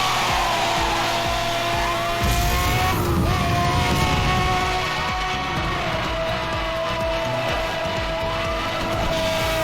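A sports car races in Need for Speed Hot Pursuit, its engine roaring steadily with rising and falling revs and tire squeal, loud and continuous without talk.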